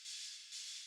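A soloed reverb return in Ableton Live 12 gives a soft, airy wash of hissy diffuse echo, swelling twice in quick succession, faint and alone without any dry signal or talk.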